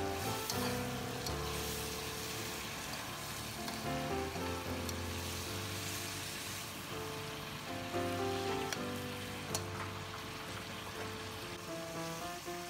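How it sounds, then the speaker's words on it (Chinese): Pork belly stir-fried in a wok with cooking wine and soy sauce gives off a steady, loud sizzle and crackle that runs the whole time, layered under background music. "继续翻炒。"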